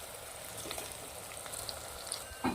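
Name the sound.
onion and curry leaves sautéing in ghee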